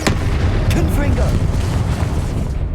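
A Confringo fire spell detonates in Hogwarts Legacy with heavy, loud booms, a sharp burst at the start and another soon after, over a continuous roar of battle, with voices mixed into the game noise.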